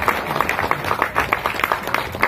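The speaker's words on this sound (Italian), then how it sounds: "Un applauso a Massimo" An audience at an award ceremony breaks into steady applause for Massimo, a dense patter of many hands clapping at moderate distance that continues evenly throughout.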